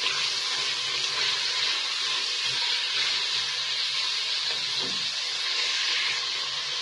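Long sliced onions frying with meat in a pan for a green bean and tomato dish give a loud, continuous, steady sizzling hiss heard close up without any talking.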